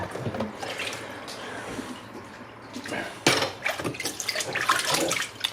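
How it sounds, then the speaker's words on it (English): Fluval 307 canister filter part sloshed about in water to rinse off excess debris: uneven splashing and swishing bursts, close and moderately loud, with a busier stretch of agitation toward the end. "Just want to slosh it about, just get the excess off."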